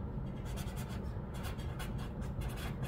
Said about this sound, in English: And we're going to write on here